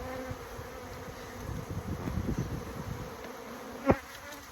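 Honeybees buzzing steadily around a hive that has just been moved, a dense close swarm drone with a sharper knock or thump near the end.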